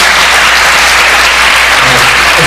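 An audience at an academic law convention applauds steadily, a dense and loud wash of clapping from many hands that holds evenly throughout.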